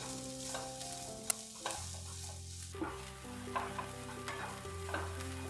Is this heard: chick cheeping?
no